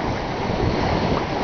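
Steady wind gusting at about 18 knots over the open sea during a solo yacht circumnavigation, a loud, unbroken roar of wind and surf with microphone buffeting and no voices.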